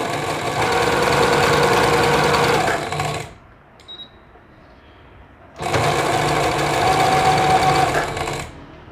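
A sewing machine stitches a dress hem in two loud, steady whirring bursts, each about three seconds long, separated by a short quiet pause. The sound is close, with no talk.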